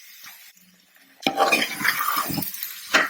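Vegetables and mint leaves stirred in a hot frying pan for vegetable biryani, with a faint quiet start and then a louder stretch of scraping, clinking and sizzling as the spoon moves through the pan.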